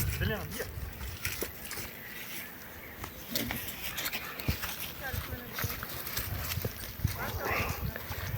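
Horse hooves clip-clopping at a steady walking pace, with people talking nearby over an outdoor background.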